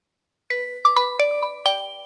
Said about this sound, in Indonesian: Sorry, ada telepon.